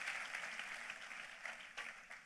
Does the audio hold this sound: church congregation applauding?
yes